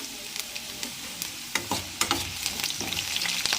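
Green chillies (vendi mirchi) frying for pachadi while being stirred in a pan: a steady soft sizzle with scattered scraping and clinking strokes of the spoon, growing a little busier toward the end, no voices.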